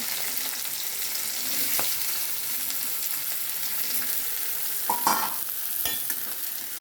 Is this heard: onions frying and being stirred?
yes